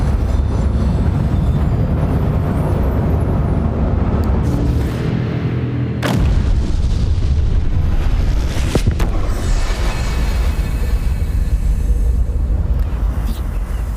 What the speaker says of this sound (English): Mind my language, but the tower fucking explodes.